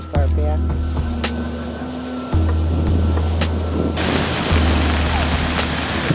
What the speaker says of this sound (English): The wave just come in.